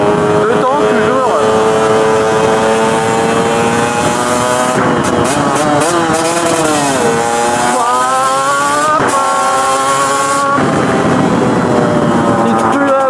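A KTM 125 EXC two-stroke dirt bike rides along a narrow, echoing street, its engine loud and close, revving and changing gears in rising and falling sweeps with a continuous buzzing note, with brief talk over it.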